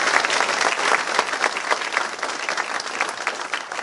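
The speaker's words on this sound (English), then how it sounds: "Let's give another round of applause to the legislators who are here today" A crowd applauds legislators at a bill signing in New York, with steady, dense clapping filling the room for a few seconds.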